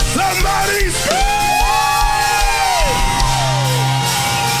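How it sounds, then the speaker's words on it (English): Church congregation screaming and shouting during a praise break, loud sustained yells and whoops rising and falling over pounding music and crowd noise. "Somebody scream!"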